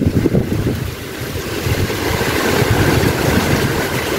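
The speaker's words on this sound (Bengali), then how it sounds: "প্রচন্ড বাতাস।" Strong wind roars and buffets the microphone during a rainstorm, a dense, loud and steady rush that swells slightly over the few seconds with no voices.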